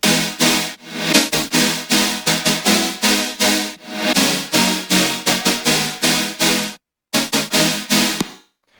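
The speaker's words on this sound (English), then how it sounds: "So I started off with a chord stack," A stacked synth chord from an electronic music production project pulses in rhythmic, swelling hits, each chord blooming and fading in steady succession, loud and alone, with a brief dropout of silence near the end.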